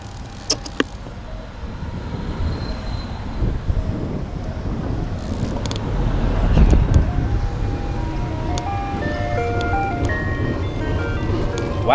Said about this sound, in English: You can really hear that ice cream truck music when you're in front of the truck.